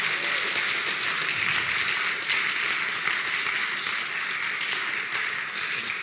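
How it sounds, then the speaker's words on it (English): A conference audience in an auditorium breaks into sustained, dense applause, a loud even wash of clapping that holds steady for several seconds without talk. "Please give them another applause and a warm thanks."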